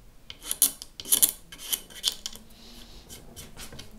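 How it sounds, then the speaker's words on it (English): A metal blade scraping along a guitar fretboard in short rasping strokes, close up, with several bright scratchy passes that fade into lighter rubbing. "The good thing about using a blade to scrape it is that you can really easily follow the curve of the fretboard"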